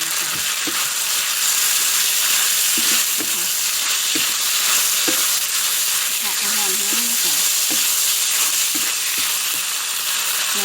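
Pork stir-frying in a wok with garlic and hot oil, a loud continuous sizzle broken by scraping stirs of the spatula against the pan.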